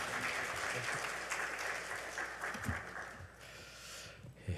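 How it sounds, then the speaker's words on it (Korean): Audience applause in a church Sunday service welcoming the pastor, a steady, full round of clapping from the congregation that holds for several seconds and thins slightly toward the end. "우리 박수로 환영하도록 하겠습니다"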